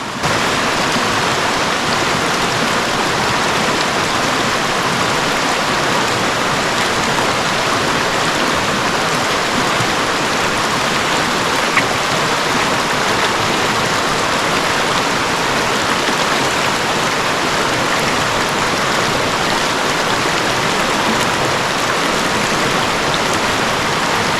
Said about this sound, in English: Making my way across Big Wilson Stream.